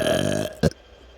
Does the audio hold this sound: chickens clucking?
no